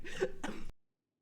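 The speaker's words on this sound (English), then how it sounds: "Sorry, I was just coughing." Two quick, close coughs in a row, then sudden silence.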